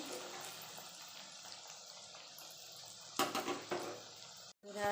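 Bengali luchi frying in hot oil in a kadai at home, a steady broad sizzling hiss that swells louder with bursts of bubbling toward the end, then cuts off briefly before a short faint clatter.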